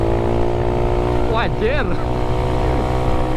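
A Yamaha Mio 150cc motorcycle with a Sonic valve head and R2 FX racing camshaft runs on a test ride with a loud, steady engine drone, while someone speaks briefly over it.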